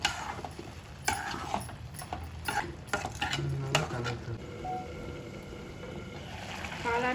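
Mushroom gravy is stirred in a pan, a utensil scraping and clinking against the metal with soft sizzling underneath, close and fairly quiet.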